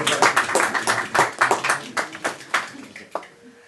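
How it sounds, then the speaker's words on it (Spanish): A small committee meeting room breaks into brisk birthday applause, a close patter of many hands clapping in uneven bursts that taper off near the end, with voices mixed underneath. "que le demos un aplauso por cumpleaños"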